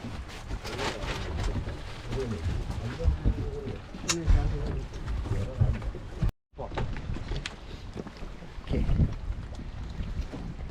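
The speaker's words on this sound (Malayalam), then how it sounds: "ബോട്ട് നമ്മളെ ഡ്രോപ്പ് ചെയ്തിട്ട് തിരിച്ചു പോവുകയാണ് ചെയ്യുന്നത്." A boat pulls away from a forest shoreline after dropping off campers in Shendurney forest, its engine a steady rumble mixed with wind noise and birdsong, with a brief gap midway.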